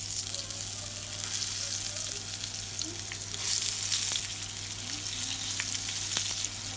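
Aubergine slices fry in smoking-hot oil in a pan, a dense, steady sizzle with scattered pops and crackles, close and continuous with no talking.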